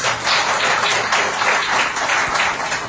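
An audience at a tribute gathering breaks into loud, sustained applause for Ismail, dense clapping holding steady throughout with no voices over it.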